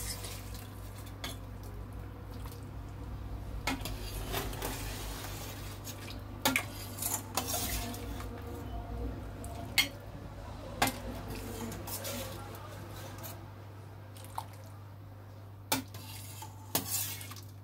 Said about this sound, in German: Jetzt füllen wir das alles schön auf. Mit Zwiebeln, Brühe.